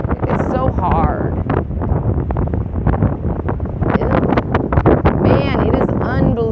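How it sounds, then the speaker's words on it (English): Strong wind on the beach at Bandon, Oregon buffets the microphone in loud, roaring gusts that never let up, with a person talking over the blustery noise. "Man, it is unbelievably windy right here."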